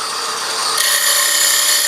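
A roughing gouge cuts into wood spinning on a lathe, giving a bright, hissing, continuous shaving sound that grows sharper and louder partway through, close and with no talk.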